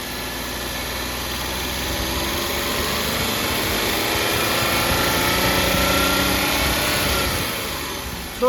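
A 2013 Maruti Alto 800 LXi's engine held under throttle, a steady close drone that swells gradually in the middle and eases back toward the end, with no voices.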